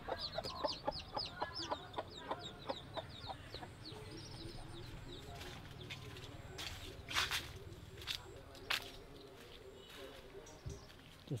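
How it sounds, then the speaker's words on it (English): Chickens in a hen house cluck in quick, repeated bursts, with a few sharper calls, heard faintly nearby in a quiet outdoor setting with a little background noise. "Oh look, this is a hen house or something."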